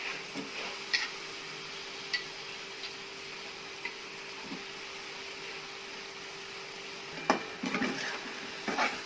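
A spoon stirs masoor and moong dal with potatoes in a pot, giving faint scattered scrapes and clinks over a low steady hum, with a louder cluster of knocks toward the end.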